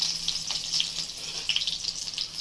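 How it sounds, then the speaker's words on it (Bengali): Chopped green chillies hit hot oil in a wok, giving a steady bright sizzle with crackling pops throughout, close and moderately loud, with no talking. "তারপরে মা এবারে কড়াইয়ের মধ্যে কুচি কুচি লঙ্কা"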